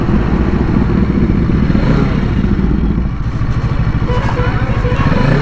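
A motorcycle engine drones steadily and loudly at close range while riding on a road trip from Kolkata to Digha, with a constant pulsing throb and wind noise throughout.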